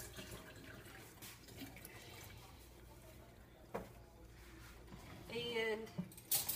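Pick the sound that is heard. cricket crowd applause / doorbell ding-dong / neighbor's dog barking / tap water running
tap water running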